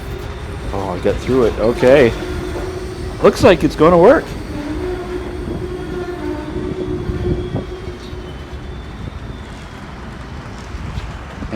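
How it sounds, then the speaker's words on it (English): Model train cars roll over layout track and bump through turnouts, a steady rumbling clatter with sharp knocks, while a person talks over the running train. "That last car is really bumping."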